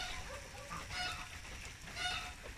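Ducks and a goose call near a feeding spot in a few short bursts of quacking and honking, fairly faint over steady background noise.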